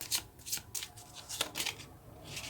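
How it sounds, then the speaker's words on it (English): Lenormand cards shuffled by hand in a run of crisp riffling bursts, each a quick papery flutter, fairly close and moderately loud with no talking. "is adding a Lenormand card."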